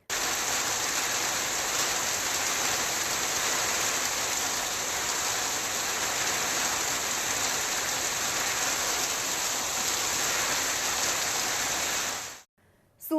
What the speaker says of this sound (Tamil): பலத்த காற்றுடன் கனமழை பெய்தது